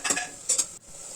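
A spoon stirs jaggery, coriander and curry leaves in a pan, giving two quick scraping strokes over a faint sizzle, close and brief.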